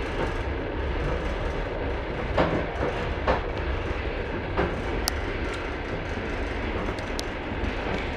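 Steady rumbling interior noise of a moving passenger train, with a continuous low roar and occasional faint clicks and rattles from the carriage, no voices present.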